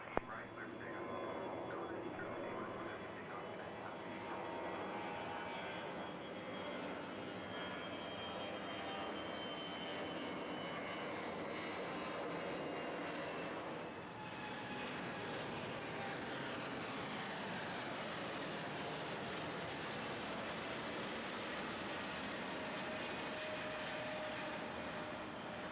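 A TACA airliner on final approach at Miami International, its jet engines a steady, loud roar throughout with a brief shift in tone midway, plus faint radio chatter underneath.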